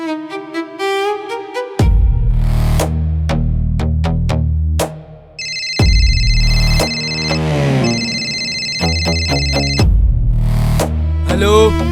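A phone rings during a call, its steady electronic ringtone repeating for several seconds over loud, dense background music.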